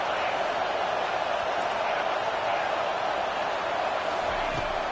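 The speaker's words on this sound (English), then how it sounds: "this crowd trying to help keep them there" A stadium crowd roars in the Madden 25 football video game, a dense, loud, continuous wall of cheering that holds steady from start to end.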